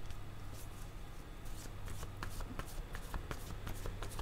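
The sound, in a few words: tarot cards being shuffled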